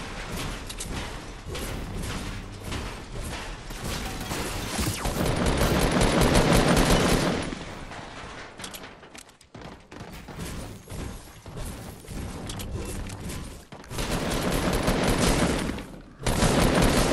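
Sustained gunfire in Fortnite's Driftboard limited-time mode: loud, rapid automatic bursts and overlapping shots roll on almost continuously, with brief lulls between volleys.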